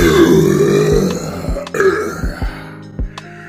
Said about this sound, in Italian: avete sentito la potenza di quel rutto?